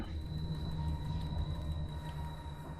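A video game train slows to a stop with air brakes, a low continuous rumble with steady tonal hums and hissing.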